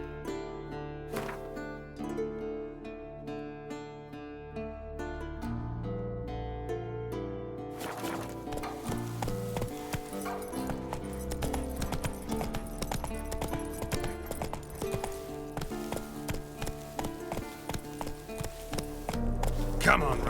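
Roach, a horse in the video game Witcher 3, gallops with rapid rhythmic hoof clip-clops that grow louder and denser partway through, layered over background music, with a voice speaking.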